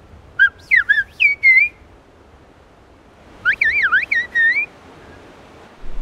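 Two bursts of melodic whistled language, the first short and warbling, the second longer with rising and falling glides, carry clearly over rugged hillside terrain where villagers work tea gardens and crops, with quiet ambience between them.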